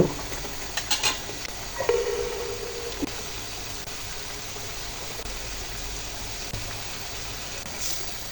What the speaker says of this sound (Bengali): টমেটো কষা একদম হয়ে গেছে মাছগুলো দিয়ে দিব